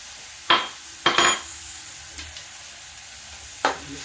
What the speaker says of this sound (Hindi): मसाला इसमें भून लेते हैं ऐसे